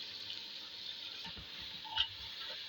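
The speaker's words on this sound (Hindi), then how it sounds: "अब मैं इसमें पानी डालूंगी" Water pours steadily into a pressure cooker holding chopped beetroot and beef, a soft continuous splashing rush heard close and fairly quiet, with a faint clink partway through.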